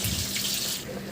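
Tap water pours steadily into a cooking pot of glutinous rice and chicken for arroz caldo, a close, continuous rushing splash that lasts about a second.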